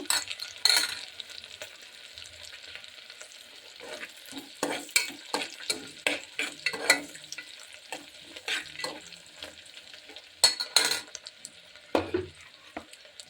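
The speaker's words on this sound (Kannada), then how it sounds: "ಏಲಕ್ಕಿ ಹಾಗೂ ಲವಂಗ ಪಲಾವ್ ಎಲೆ ಇದನ್ನು ಎಲ್ಲ ನಾವು ತುಪ್ಪದಲ್ಲಿ ಬಡಿಸ್ಕೊಳ್ಳೋಣ" Cardamom pods, cloves and bay leaf sizzle and crackle in hot ghee for a North Karnataka-style fenugreek pulao, with a steady frying hiss broken by intermittent stirring scrapes and sharper bursts near the start and end.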